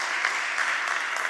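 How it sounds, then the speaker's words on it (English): A symposium audience gives a short, lively round of clapping after a keynote, a close, busy patter of many hands with no talking. "a round of applause again, please, for Tatiana"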